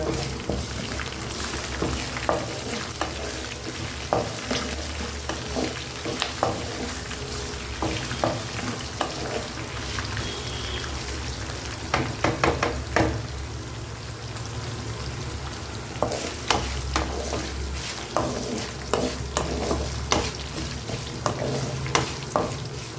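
Tempering for Andhra-style tamarind pulihora fries in a pan, a continuous crackling sizzle broken by frequent scraping stirs and small pops, close and steady throughout without talk.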